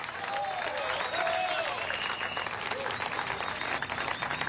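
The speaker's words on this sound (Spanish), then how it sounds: "Un aplauso a China." A crowd applauds China at a Venezuelan social housing handover ceremony marking the millionth home, with continuous, full clapping and cheering voices blending over a reverberant space throughout.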